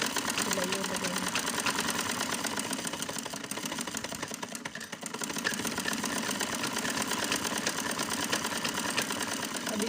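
Sewing machine running steadily while stitching a seam on an Afghani salwar, a dense continuous mechanical whir that holds nearly unbroken for the full stretch, with only a brief dip midway.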